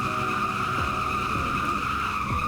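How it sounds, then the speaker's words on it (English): A drifting car in Southwest Florida holds a long, steady tire squeal over a droning engine, loud and close throughout with no pause. "I could hold drifts forever"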